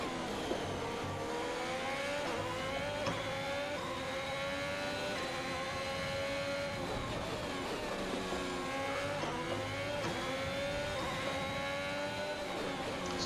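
Formula 1 race car engine in the F1 2021 video game at the Russian circuit, screaming steadily as it climbs and drops through gear changes for the whole stretch, loud and continuous with no speech.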